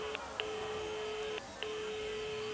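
A 1989 telephone modem dials out to place an order, sounding a few short beeping tones over a steady, faint line tone.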